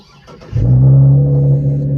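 A car engine cranks briefly and then catches, settling into a loud, steady low idle hum close by.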